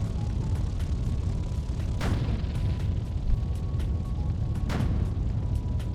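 A tank game's howitzer fires and its shells explode in two sharp, loud blasts about three seconds apart, each cracking out over a steady low engine rumble.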